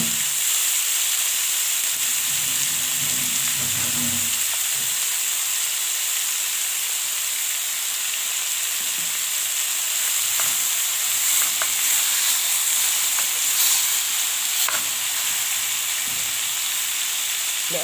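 Marinated chicken drumsticks fry in a pan with a loud, constant close sizzle and hiss, broken by occasional faint pops and a brief low clatter early on, with no speech.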